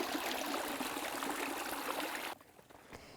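Stream water flows steadily with a broad, close rushing wash, then cuts out abruptly near the end, leaving only a faint trickle and low background.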